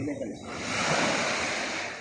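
Sea waves wash in at Pantai Siring beach in Melaka on a morning at high tide, a steady soft surf swelling and fading under wind noise.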